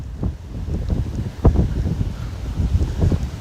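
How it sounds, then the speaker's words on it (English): Strong gusty wind blows outdoors beside the water, buffeting the microphone in rumbling bursts at moderate loudness with no talk. "it doesn't say it's going to be this windy"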